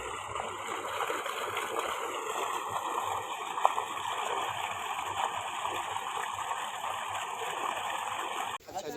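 Water gushing steadily from the outlet pipe of a solar-powered borewell pump, a continuous loud broadband rush and splash that holds unchanged for the whole span before cutting off abruptly at the very end.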